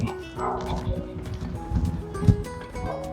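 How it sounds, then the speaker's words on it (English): A dog shut in a room barks and whimpers in short yips and whines over a dense, busy background of indoor noise. "Poor dog is in the room."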